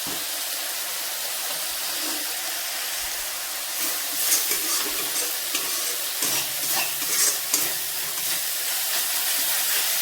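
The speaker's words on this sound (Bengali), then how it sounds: "তেলটা না আসা পর্যন্ত একটু ভালো করে কষাতে হবে।" Curry being sautéed in a pan, a soft continuous sizzle and hiss with intermittent scraping stirs in the middle, close but fairly quiet, no talking.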